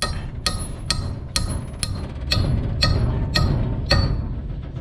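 A hammer taps a roll pin into the husking bed of a John Deere 300 corn picker, eight sharp metallic strikes in a steady, evenly spaced rhythm, close and loud over a low background rumble.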